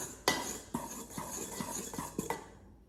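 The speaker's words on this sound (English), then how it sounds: "I always like to give it just a little bit of stir." A utensil stirs thick chocolate bread batter in a bowl, with several distinct knocks against the sides over a steady scraping swish. Close and clear, no voices.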